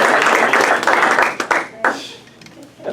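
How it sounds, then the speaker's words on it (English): Workshop attendees applaud their volunteers, a full burst of clapping that thins out and fades after a couple of seconds, leaving a few scattered claps at the end. "Give them a round of applause."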